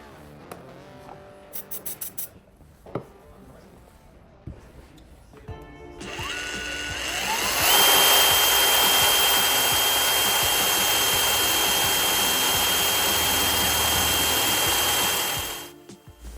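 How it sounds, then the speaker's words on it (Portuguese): A DeWalt DCD130 drill bores a hole in a steel plate with a 3/8 Heller bit: a few short clicks and trigger blips, then a loud, sustained high whine for about eight seconds before it winds down. "a gente está fazendo o furo aí com uma broca Heller, né, uma broca de 3/8"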